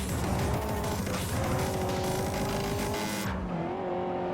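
A Honda Civic Type R driven hard in a racing video game, its engine revving loud and close with rising and falling pitch through gear changes, plus brief tire squeal, before fading abruptly.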